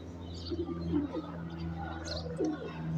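Pigeons coo softly on a rooftop, part of a flock of more than a hundred birds, with low, steady murmuring and a few brief chirps over a constant background hum.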